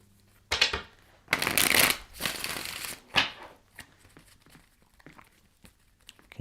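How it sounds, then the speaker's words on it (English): Tarot cards are shuffled by hand in several quick, crisp riffling bursts, close and fairly loud, followed by softer shuffling taps with no talk. "Last shuffle"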